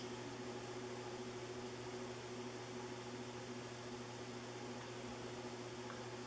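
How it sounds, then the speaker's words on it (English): A 2005 Banvil Spinner 90 cm white ceiling fan runs on low speed, giving a faint, steady motor hum with a soft, even whir of moving air. "it's got a very fast low speed, doing approximately 120 RPMs"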